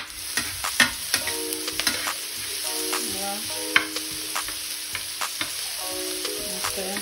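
Onions fry in a pan for a beef and vegetable stir fry, a steady close sizzle broken by repeated sharp scrapes and clinks of a utensil stirring, with no one speaking.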